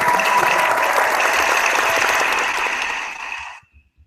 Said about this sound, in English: Was that really hand claps?